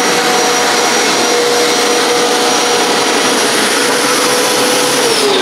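A Hoover PowerScrub XL carpet cleaner runs steadily up close, a loud, constant motor roar and whine with hissing airflow, unbroken and with no voices.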